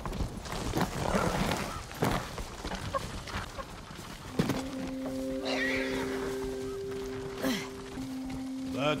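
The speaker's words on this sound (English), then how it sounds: "Follow those horses." Horses in Ghost of Tsushima clatter with hoofbeats at moderate distance, mixed with a whinny and a sustained tonal hum, amid scattered thumps and movement.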